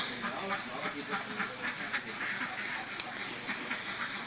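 Ducks kept on a small farm quack repeatedly in a loose, overlapping flock, moderately near and fairly soft, against a steady background hum.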